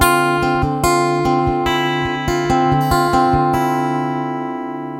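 Acoustic guitar through a Zoom A3 preamp with the treble boosted, strummed and picked chords ringing bright and close, a few rhythmic strums then letting the last chord decay, no talking.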